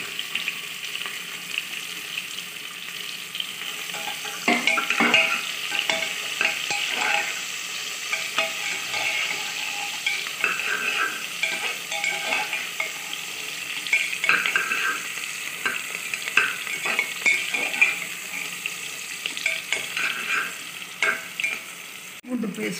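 Onions sizzle and crackle in hot oil, with steady frying hiss and intermittent scraping of a spoon stirring the pan.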